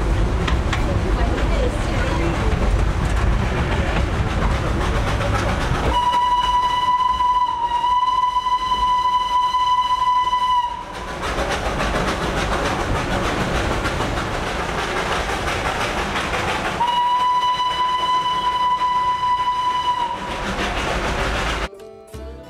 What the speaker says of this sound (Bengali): আমাদের টয় ট্রেন রওনা দিল।